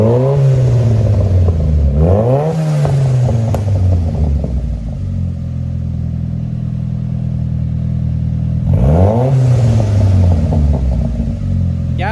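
A Nissan Silvia S14 with a tuned SR20DET engine idles with a lumpy rumble and is revved sharply twice, once early and once near the end, each rev rising and falling close by.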